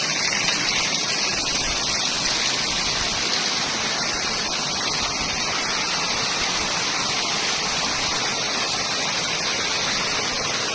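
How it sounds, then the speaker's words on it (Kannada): Water pours continuously from the 108 spouts at a Himalayan temple in Nepal, a dense, loud, unbroken rushing roar close by with no pauses or other sounds. "ಮೇಲ್ಗಡೆ ಹಿಮಾಲಯದ ಬೆಟ್ಟದಿಂದ 108 ಧಾರೆಗಳಾಗಿ ಗೋಮುಖದಿಂದ ನೀರು ಬರುತ್ತೆ"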